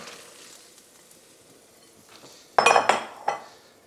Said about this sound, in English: In go the sweet potatoes.